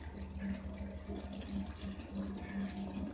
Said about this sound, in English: we're gonna drain the machine out